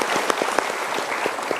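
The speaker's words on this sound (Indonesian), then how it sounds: "berikan tepuk Jawa tangan" Studio audience applause on a televised motivational talk show, a short burst of clapping with distinct claps standing out over a steady rustle.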